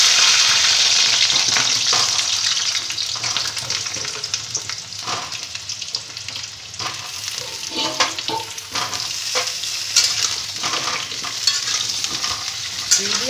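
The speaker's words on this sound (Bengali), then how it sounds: "মিডিয়াম ফ্লেমে আমি এই আলুগুলোকে ভেজে নেব।" Potatoes fry in hot oil in a wok over a medium flame, giving a dense, steady sizzle close by with frequent spatula scrapes and clinks as they are stirred.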